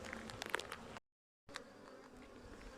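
Honey bees buzz around a strong beehive at an off-grid property in central Portugal, a faint, steady insect drone interrupted by a brief dropout partway through, with no voices.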